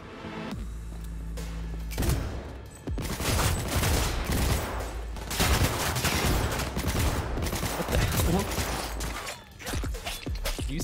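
Rapid charge rifle gunfire in the video game Cyberpunk 2077, loud and sustained bursts with dense crackling shots and low rumble running almost continuously, briefly dipping before resuming.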